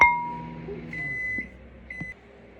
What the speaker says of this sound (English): we're gonna pop this back in the microwave for probably about a minute